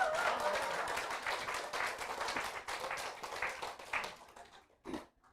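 An audience at a humanities special lecture on laughter, broadcast by Gwangju Catholic Peace Broadcasting, claps for the lecturer: a moderate burst of applause that gradually thins and fades out, with a last scattered clap near the end.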